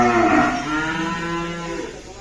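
Cattle at a farm gathered for Qurbani, being cooled with water spray, give a single long, close, drawn-out moo that fades slowly, with no talking.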